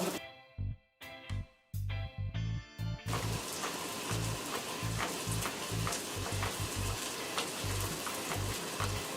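Sausage fries with softened onions and peppers in a pan, giving a steady close sizzle throughout, with a few louder clatters of a utensil near the start and soft scraping stirs.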